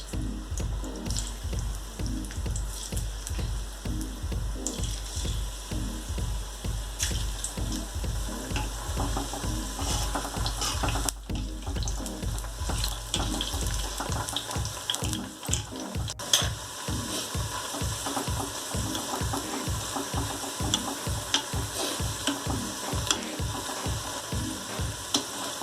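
Cauliflower pakoras frying in hot oil, a dense steady sizzle and bubbling close up, with rhythmic stirring in the pan partway through, and no one speaking.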